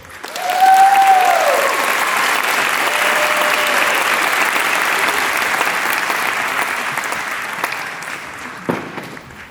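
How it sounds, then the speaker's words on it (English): Sustained, loud applause from a large crowd at a college of medicine commencement ceremony, a dense steady wash that swells early and slowly fades, with a faint whistle near the start. "Please give your valedictorian another round of applause."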